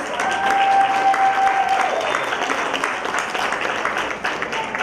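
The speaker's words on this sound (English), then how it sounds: "Let's give Ethia a big round of applause." A workshop audience at a global interactive learning session gives a warm round of applause to welcome a participant, with sustained group clapping, some crowd noise and a brief high whistle-like tone early on.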